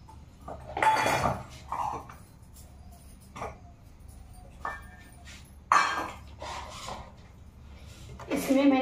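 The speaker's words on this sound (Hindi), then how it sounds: "जब तक कढ़ाई गर्म हो रही तब तक हम ये बर्तन लगा लें फट से" Steel pots, dishes and a karahi being set out in a home kitchen, with scattered metallic clanks and clinks at irregular intervals, some close and ringing, others softer.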